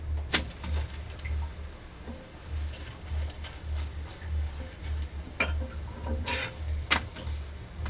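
Egg paratha roasting in oil on a flat pan gives a soft, steady crackle dotted with occasional sharp pops, close by, over a low continuous hum.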